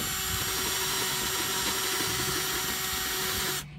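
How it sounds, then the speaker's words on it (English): A power drill with a paddle bit whirs continuously at a steady high pitch, close and loud, grinding through a plastic bucket before stopping abruptly. "I wanna try to drill this out a little bit more"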